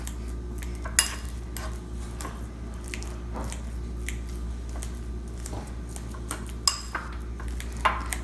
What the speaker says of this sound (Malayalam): ഒരു ഫോർക്ക് ഉപയോഗിച്ച് നമുക്ക് ഈ പഴം നന്നായിട്ട് ഒന്ന് ഉടച്ചെടുക്കാം